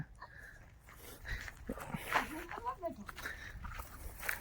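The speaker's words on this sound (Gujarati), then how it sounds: "આ કુતરીનું નામ શું" A female dog at a rural hut chews and snorts close by in short, irregular bursts, partly under people talking.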